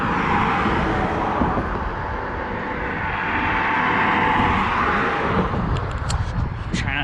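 Cars sweep past on a coastal road near Fort Moultrie on Sullivan's Island, a loud broadband whoosh of tyres and engines swelling and fading close by over several seconds, with a few faint clicks near the end.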